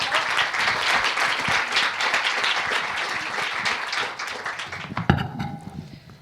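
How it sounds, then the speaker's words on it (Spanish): Audience applause at a live panel event on women's leadership, loud and continuous for about five seconds, then tapering off into scattered claps and light room noise. "Un aplauso para Jimena."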